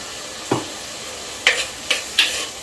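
Onion and tomato in a clay pot for fish curry give off short bursts of sizzling and stirring, four separate hissing scrapes spaced irregularly over a quiet background.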